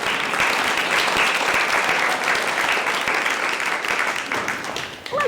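Loud, sustained audience applause at a Stanford happiness event as a speaker comes on stage, dense clapping from a large crowd filling the room and tapering slightly near the end, with a voice briefly audible at the close.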